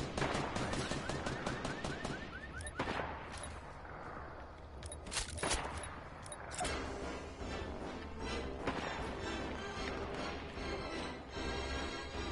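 Dense, rapid bursts of video-game gunfire crackle close and loud through the opening seconds, followed by scattered shots, crashes and a steady rumbling game soundscape, with no talking.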